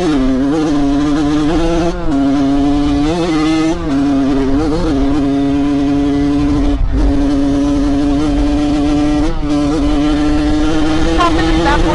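Dirt bike engine revving hard while riding through sugar sand on a wet day, a loud steady engine drone with pitch rising and dipping through gear changes, continuous and close throughout.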